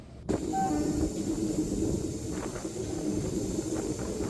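A train pulls into Avaneeswaram railway station on the Kollam–Sengottai line, a steady close rumble of wheels and carriages with brief tonal squeals early on and a hissing wash throughout, no voices.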